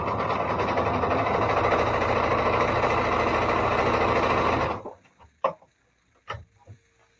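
A sewing machine runs fast and steady while stitching a quilt seam, a dense mechanical whir that stops abruptly partway through, followed by a few faint clicks and handling taps.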